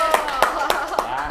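A few sharp hand claps land in a steady rhythm, about four in a second, mixed with conversation in a doctor's consultation setting on a skincare talk show.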